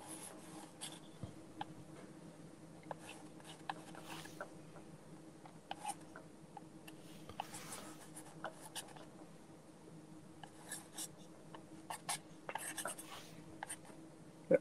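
A pastel stick scratches and rubs across paper in faint, irregular strokes, close and quiet with no talking.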